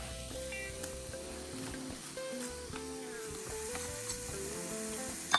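Garlic sizzling in a pan while a stewed red snapper dish is cooked, a soft, steady crackling fry at low level with faint clinks and a small sharp knock near the end.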